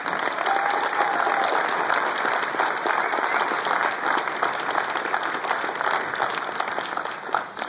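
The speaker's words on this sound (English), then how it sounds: "Please give a round of applause to Mr. Ralph Sampson" An audience applauds basketball figure Ralph Sampson at a college basketball hall of fame event, a continuous, even roar of many hands clapping from start to finish.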